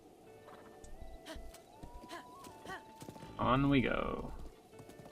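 In a video game, a horse's hooves clip-clop in an irregular patter under a speaking voice, ending in a louder burst of movement near the close.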